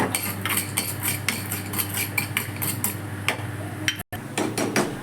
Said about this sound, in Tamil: இந்த பூண்டு நல்லா செவந்து வந்துடுச்சு